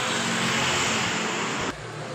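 A 2019 Honda Beat ESP scooter engine, one that sputters and keeps stalling, runs with a steady loud broadband drone before cutting off abruptly near the end, leaving only quieter background noise.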